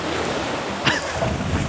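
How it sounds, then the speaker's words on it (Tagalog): Steady broadband wash of strong ocean waves at a lagoon on Limasawa Island in the Philippines, continuous and fairly close, with a brief splash-like swell near the middle and no speech. "Sarap dito sa lagoon kasi malakas yung alon pero malinis pa rin ang tubig."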